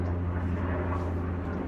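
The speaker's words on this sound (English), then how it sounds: "Helicopters." Helicopters flying overhead make a steady, low droning hum with layered harmonics. The drone stays constant and fairly loud for the whole stretch, and no one speaks.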